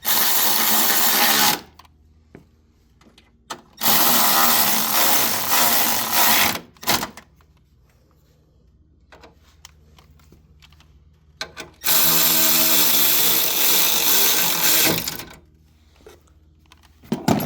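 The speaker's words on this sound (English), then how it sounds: "we're going to use this ratchet to speed up the process" Bolts on a Mitsubishi Outlander motor mount are tightened with a power ratchet, loud whirring bursts separated by quiet gaps, three longer runs with brief clicks between.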